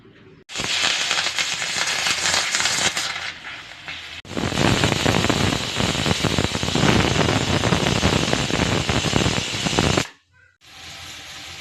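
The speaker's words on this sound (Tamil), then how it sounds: "அஞ்சு விசில் வந்துருச்சுங்க" A pressure cooker cooking millet with water on a stove lets off a loud, sustained hissing whistle lasting several seconds, cutting out briefly and then starting again, with no talking.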